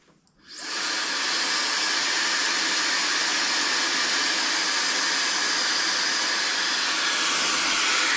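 A hair dryer switches on and blows steadily at high speed with medium heat, giving a loud, close, continuous broadband whoosh that holds unchanged for several seconds with no talking.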